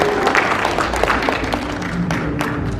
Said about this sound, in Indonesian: Boleh tepuk tangannya untuk road glide CVO.